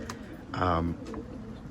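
Pigeons cooing inside a loft, one clear rolling coo up close in the middle with fainter coos around it, and someone talking quietly underneath.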